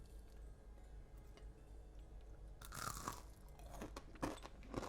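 Crisp crunching bites into fried falafel pakoras served with masala chai, starting quietly then turning into loud, close chewing crunches in the second half, with no talking.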